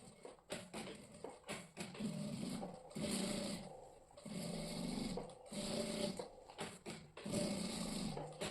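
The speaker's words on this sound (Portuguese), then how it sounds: "Eu vou costurar bem na beiradinha." A sewing machine stitches close along the edge of a rug made from flip-flops and denim fabric, running in several bursts of rapid mechanical whirring separated by short pauses, fairly close and alone.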